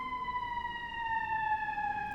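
An emergency siren, police car or ambulance, wails steadily with bright stacked tones gliding slowly downward as it passes at moderate distance, with no talk over it.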